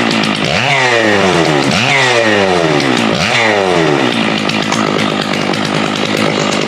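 Stihl MS660 chainsaw being prepped during seasonal cleanup: three sharp revs rising and falling, then a steady high idle-rev drone, loud and close, with no voices.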